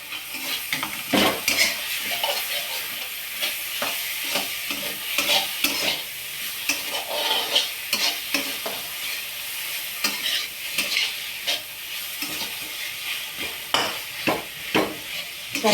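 Vegetable curry fries in a pan while a spoon stirs it, scraping and clinking in repeated strokes over a continuous close sizzle, with no talking.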